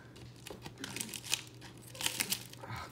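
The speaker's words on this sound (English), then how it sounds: "it's the bubble foil or whatever" Bubble foil mailer packaging crinkles and crackles up close during a mail-day opening, in a run of irregular crisp bursts with sharper peaks near the middle and end, with no voices.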